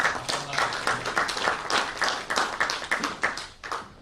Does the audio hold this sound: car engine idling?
no